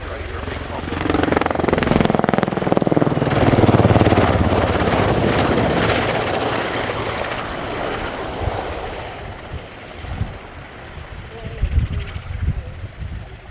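A Portuguese Air Force AW101 Merlin helicopter's steady rotor and engine roar fills the air during a flying display at RIAT 2025, loud at first and slowly fading, with someone talking over it.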